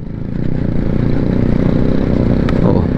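A motorcycle engine revs hard but struggles to pull on a dusty mountain road near Tinjure, Nepal, giving a loud, close, steady drone with a low rumble.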